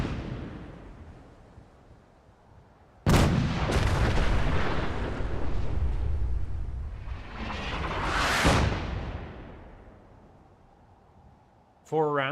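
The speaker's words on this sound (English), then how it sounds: "You've now got artillery support." Artillery strikes in Fallout 4 land as heavy booming impacts, one sudden blast followed by a long rumbling roll, a second swelling detonation, then another sharp hit at the very end, with a voice speaking faintly in between.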